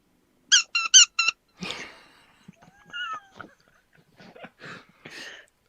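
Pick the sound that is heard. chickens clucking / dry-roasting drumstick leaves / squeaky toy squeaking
squeaky toy squeaking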